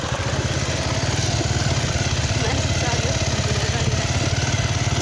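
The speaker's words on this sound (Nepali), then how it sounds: "डुङ्गा पनि चलिरहेको रहेछ" A motor boat engine runs steadily at a picnic spot, a continuous low pulsing drone with a fast regular throb, fairly close and loud throughout, with people talking faintly.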